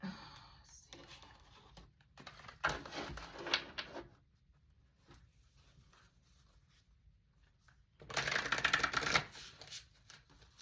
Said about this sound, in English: Let's get one card from this deck.